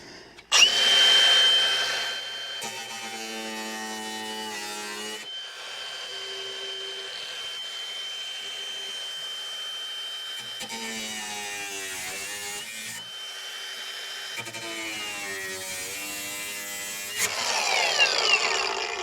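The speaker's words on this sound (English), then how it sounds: "So I'm going to switch off and try using my angle grinder." Angle grinder cutting and scouring rust off the body of a Porsche 911: a steady, loud whining grind runs throughout, with pitch shifting as the disc bites and eases, alone without talk.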